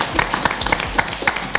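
Audience applause for a performer at a French comedy café show, a short burst of scattered, uneven claps that stays fairly near and steady for just over a second.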